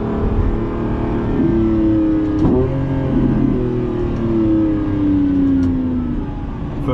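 A Lamborghini Revuelto accelerates hard in first gear, its engine note climbing steadily in pitch through a loud, continuous rev with a brief dip around mid-pull, heard from inside the car without talk.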